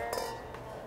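Wine glasses touch in a toast, giving two light, brief clinks, the first a little stronger, against a quiet room.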